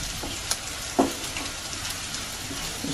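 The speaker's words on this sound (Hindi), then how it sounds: "अनियन सौते करने में 4-5 मिनट लगता है" Onions sautéing in a pan for vegetable paneer pulao, a steady, even sizzle throughout with a couple of brief clinks or stirs near the start, moderately close and alone.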